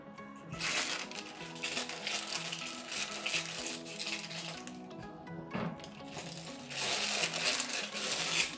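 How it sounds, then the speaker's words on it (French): Stiff plastic packaging around stress balls crinkles and crunches up close as scissors work through it, in bursts of crackling cuts and rustling. "Il va me falloir une paire de ciseaux."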